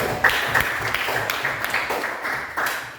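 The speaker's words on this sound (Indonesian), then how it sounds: "tepuk tangan dulu" Applause from a class audience at an Islamic religious education teaching performance test session, a soft, steady patter of many hands clapping at moderate distance for about three seconds, with no talk over it.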